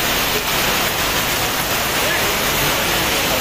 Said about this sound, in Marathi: पाऊस बघा